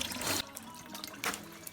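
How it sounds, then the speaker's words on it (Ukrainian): Cold water flows steadily while the cooling system of a VW Passat B7 is flushed, a close hiss-like rush with two louder bursts of gushing. "Це тільки холодна вода, вода, прохладна вода йде."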